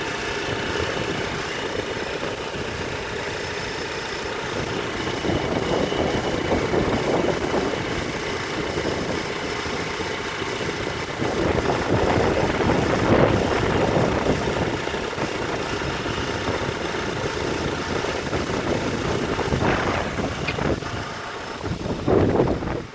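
A 2012 Honda Accord, eighth generation, idles outdoors on a windy day: a steady mid-pitched engine drone runs throughout, with gusts of wind buffeting over it and no talk.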